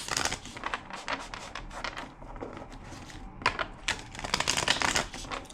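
Tarot cards are shuffled in quick, crisp riffling bursts, close and fairly quiet, with short pauses between the runs.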